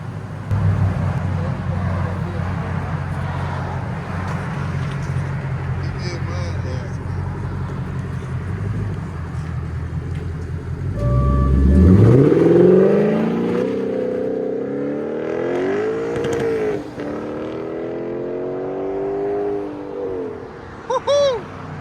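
A Lexus RC F 5.0-litre V8 fitted with Dynomax Race Bullet mufflers and a 2.5-inch rear-delete pipe drives off, first idling low, then a loud surge of acceleration rising through the gears, heard from close by without talk.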